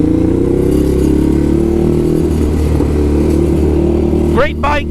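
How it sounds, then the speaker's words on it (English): Motorcycle fitted with an SE Project exhaust idles with a loud, throaty, rumbling drone close by, then gives a couple of quick sharp revs near the end. "that exhaust I'm rocking, this is the SE Project."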